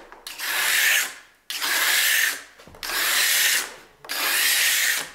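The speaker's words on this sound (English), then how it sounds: "the biggest thing I ever approached the belt sander with" Belt sander working a large glued-up wooden cutting board in four long passes, each a loud, steady abrasive rasp that rises, holds about a second and fades between strokes, with no talking.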